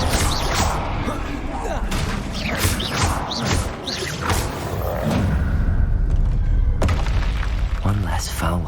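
A Confringo blast spell explodes in the Hogwarts Legacy video game, setting off loud, booming bursts with crashing, shattering debris in a dense, continuous battle din, and a voice sounds among the blasts.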